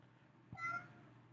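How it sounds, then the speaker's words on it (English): A single faint cat meow rises briefly in the middle of an otherwise quiet indoor stretch, with no talking over it. "What are you meowing about?"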